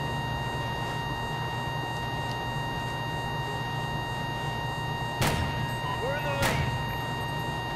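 Sniper rifle fire in Call of Duty Ghosts, two sharp cracks about a second apart over a steady game hum and low rumble, each shot fairly loud and brief.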